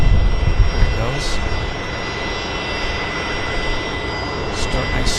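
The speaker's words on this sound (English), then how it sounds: "Nice Star Alliance branded jet" A Star Alliance branded jet airliner at Vancouver Airport on a windy day, heard as a steady, broad engine roar that is loudest at the start and then settles into a constant rumble.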